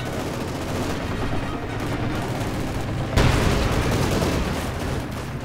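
Gunfire and machine-gun bursts in a Company of Heroes 2 battle with Soviet shock troopers against a German force, dense steady crackling that jumps louder into a heavy burst partway through.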